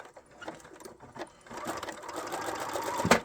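A sewing machine zigzag-stitches binding onto a mini art quilt, starting with faint handling sounds before the motor whirs up into a steady, close mechanical hum of stitching that swells near the end.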